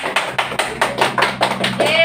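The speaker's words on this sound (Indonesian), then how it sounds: "kasih tepuk tangan buat Sandi ya tuh." A classroom of students claps for a classmate, a loose series of loud, fairly rhythmic hand claps close by over about two seconds, ending with a brief high squeak or whistle-like tone.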